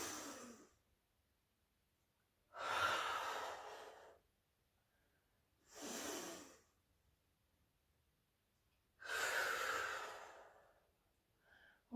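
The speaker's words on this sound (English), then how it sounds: "inhaling through our nose and then exhaling through our mouth" Slow, deliberate breathing during a full body flexibility stretch class, in through the nose and out through the mouth, with four soft airy breaths spaced a few seconds apart in a quiet room.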